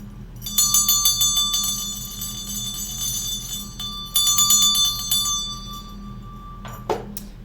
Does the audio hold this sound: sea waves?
no